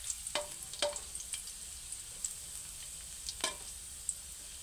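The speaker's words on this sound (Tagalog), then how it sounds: "Unahin natin yung bawang." Garlic sautés in a pan with a faint, soft sizzle and a few sharp clinks or scrapes from stirring spread across the stretch.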